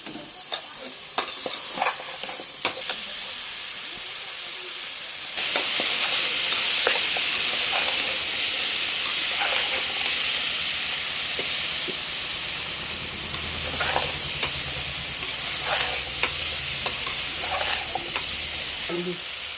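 Salted lentils are stirred and sautéed in a pan, making a steady sizzling hiss with repeated spatula scrapes and clicks. The frying grows louder partway through and stays dense, with intermittent stirring strokes.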